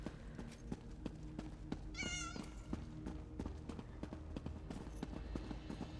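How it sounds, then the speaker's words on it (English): A single short cat meow rises out of game music in Elder Scrolls Online, in Summerset, sounding around the two-second mark over steady background music with tapping footsteps. "I just heard a cat."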